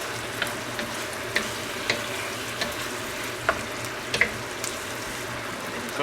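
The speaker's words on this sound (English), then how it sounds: "So we're going to let that cook. As you can see, it's cooking." Hawaiian chicken frying in a pan gives a steady, close sizzle with scattered small pops and crackles, and no talk over it.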